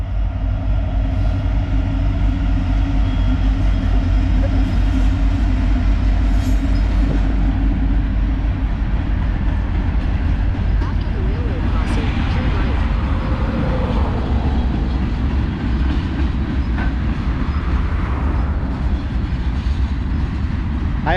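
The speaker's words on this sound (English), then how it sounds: "It's a choo-choo." A train rumbles past steadily for a long stretch, with rolling wheel noise and faint metallic squeals; a voice is briefly heard.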